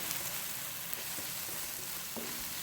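Garlic and onion sautéing in a pan for callos, a steady close sizzle and fry with soft stirring scrapes, no voices.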